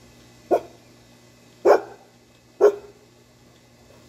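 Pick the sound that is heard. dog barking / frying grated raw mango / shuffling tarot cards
dog barking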